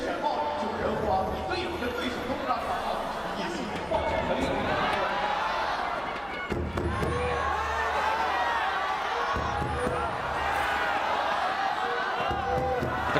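A large arena crowd at the LPL Summer Finals 2024 esports match between BLG and WBG roars and chants steadily throughout, a dense continuous wash of voices under excited casters talking.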